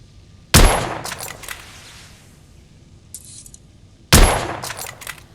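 Two loud, close rifle shots fired in The Order: 1886, each a sharp crack with a ringing metallic tail, spaced several seconds apart, with faint mechanical clicks between them.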